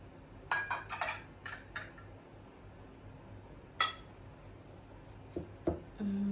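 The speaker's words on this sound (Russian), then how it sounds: "сейчас я буду греметь посудой" Dishes clatter and clink in a home kitchen in several short bursts, a cluster of sharp knocks early, one loud clank midway and a few more near the end, with quiet pauses between.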